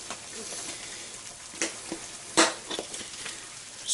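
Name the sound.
eggs frying and popping in a pan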